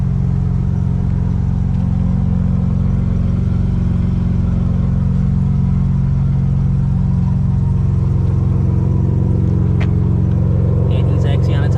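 A Dodge Demon idles at a drag race with a steady, heavy low rumble that runs unbroken and loud throughout, with faint higher noise near the end.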